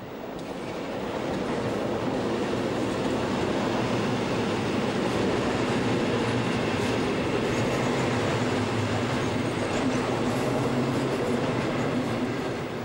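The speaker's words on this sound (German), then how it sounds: "Die formschönen Elektroloks tragen heute die Hauptlast im Personen- und Güterverkehr." An ÖBB Taurus electric locomotive, built by Krauss-Maffei, hauls a train past with a loud, sustained rumble and rolling rail noise that holds steady throughout, with no voices.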